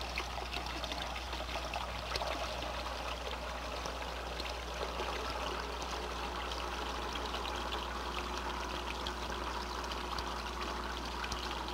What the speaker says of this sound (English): I'll reduce the volume flow at successive sections by bleeding water from the manifold.